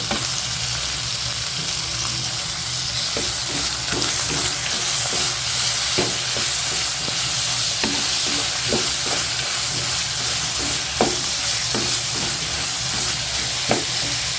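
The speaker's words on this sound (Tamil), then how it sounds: "வதங்கட்டும்" Tomatoes and onions sauté in a pan with rock salt and tamarind for kara chutney, a loud, steady frying sizzle punctuated by periodic clicks and scrapes of a spoon stirring.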